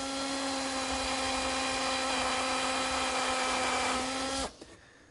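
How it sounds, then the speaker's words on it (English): A power drill whines steadily and close by as it pre-drills screw holes in a wooden serving tray, then spins down and stops near the end. "I'm going to pre-drill for the holes"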